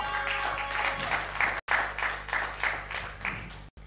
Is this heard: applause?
yes